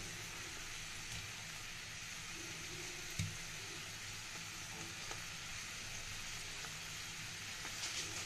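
Rohu fish going into a simmering tangy-sweet gravy, with a soft, steady bubbling sizzle and a few faint stirring clicks.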